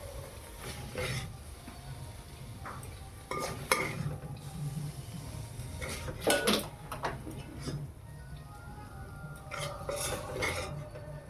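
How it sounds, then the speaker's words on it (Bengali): A spatula scrapes and knocks against a wok as a cauliflower and carrot curry is stirred, uneven metallic clatters and scrapes in bursts over a low sizzle, close and moderately loud with no voices. "ভালো করে নেড়ে চেড়ে বাটিতে"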